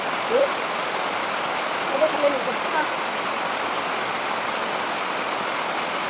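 Heavy rain pours in a dense, steady hiss throughout, with a few faint voice fragments near the start.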